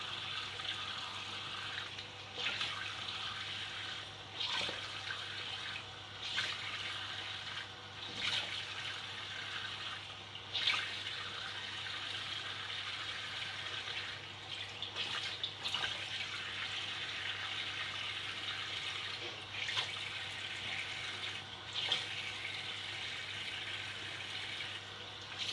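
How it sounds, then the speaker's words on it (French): Cold tap water runs while someone rinses their face, a faint steady flow broken by soft splashes every few seconds, quiet and close. "Et donc on vient rincer à l'eau froide pour bien serrer les pores."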